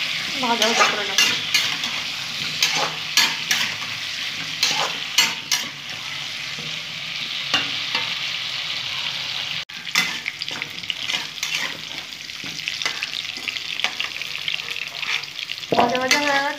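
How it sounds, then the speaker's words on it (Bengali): Potatoes and carrots sizzle steadily in hot oil in a pan, with repeated scraping stirs of a spatula through the frying vegetables, close and continuous throughout. "ভাজা ভাজা করে নেব।"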